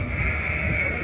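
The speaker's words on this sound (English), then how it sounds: "Oh, sheep are coming back through again." Sheep bleat faintly in the distance across an open field near Stonehenge, a steady drawn-out cry under a constant low wind rumble.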